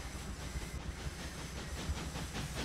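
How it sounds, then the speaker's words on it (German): A small model demo train runs around a circular track, giving a soft continuous rolling rumble with faint rhythmic wheel clicks, quiet and steady, with no voices. "Dieser kleine Demozug fährt hier immer noch im Kreis"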